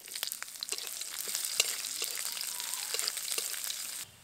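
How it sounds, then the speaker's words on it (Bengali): Chopped onion frying in oil over tempered bay leaf, dried red chilli and whole cumin seeds: a soft, close, continuous crackling sizzle with scattered pops, stopping abruptly near the end. "পেঁয়াজটা একদম হালকা করে ভেজে নিয়েছি।"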